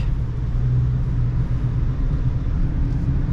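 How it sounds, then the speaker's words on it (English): Dense freeway traffic near an on-ramp rolls past a 2021 Subaru Crosstrek Premium CVT as a steady low rumble of cars and road noise, continuous and fairly loud with no voices. "there is a considerable amount of traffic"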